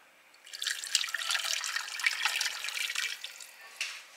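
Beef broth pours into a crockpot, a steady splashing liquid stream for about three seconds that starts and stops abruptly, heard alone and fairly close.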